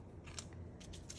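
Quiet, close scissor snips and crisp crackling cuts through vintage tulle, a few short bursts in quick succession, with no voices.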